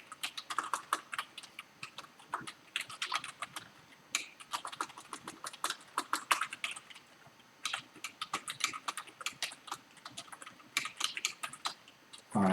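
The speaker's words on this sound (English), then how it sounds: "So we're just typing out some stuff here." Rapid, steady typing on a computer keyboard while coding a Twitter-style server app in Kotlin, with dense clicking keystrokes in quick irregular bursts close to the mic, and no talking.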